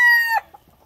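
A fighting rooster bred for cockpit competition gives a loud, close, harmonic crow lasting under half a second, breaking off abruptly into brief faint clucks.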